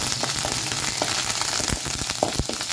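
Curry leaves with dried red chillies, cumin, urad dal and chana dal frying in a pan for carrot pachadi, a continuous close sizzle broken by scattered small crackles and spatula taps.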